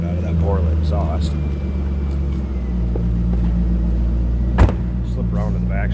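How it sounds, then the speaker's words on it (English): A 2003 Chevrolet Corvette 50th Anniversary Coupe with a Borla exhaust idles with a steady, deep, throaty rumble close by, and someone talks over it. "Nice deep throaty sound out of that Borla exhaust."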